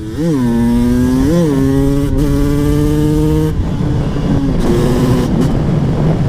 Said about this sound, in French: C'est une moto qui marche le feu de Dieu.